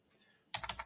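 Computer keyboard typing comes in as a quick burst of close, loud key clacks after a quiet lead-in, with no voices.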